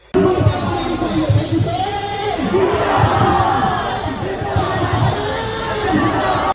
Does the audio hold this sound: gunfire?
no